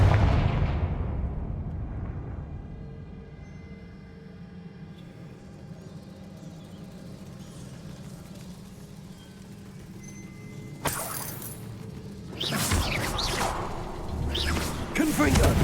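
A Confringo spell in Hogwarts Legacy: a loud blast that fades into a low rumble, then sharp crackling bursts and further impacts, with a voice speaking over part of it.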